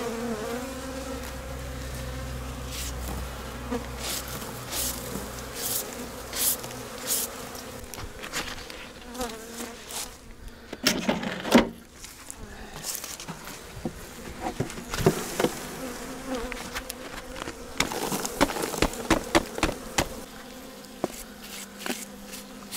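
Many honeybees hum and drone steadily around a hive as a beekeeper checks frames for winter, close and continuous, with occasional knocks and scrapes of handling woodwork.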